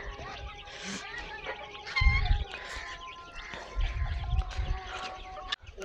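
Pigeons, chicks and partridges feed together, with chirps, tweets and clucks scattered over soft pecking and scuffling thumps that come in two bursts, all close by and fairly quiet.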